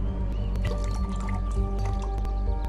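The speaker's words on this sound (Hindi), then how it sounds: "कम से कम मैंने थोड़ा पानी तो पिया" Water being drunk in the Roblox video game, a busy game sound of dripping, splashing liquid with a steady low hum and tonal layers underneath, fairly loud and continuous.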